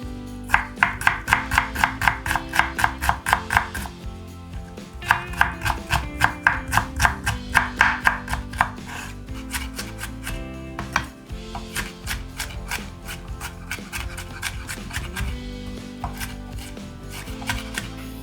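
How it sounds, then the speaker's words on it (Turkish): Rapid, rhythmic knife chops on a cutting board as three onions are finely chopped, coming in quick bursts with short pauses between runs, steady and close. "Üç adet soğanı ince ince doğruyoruz."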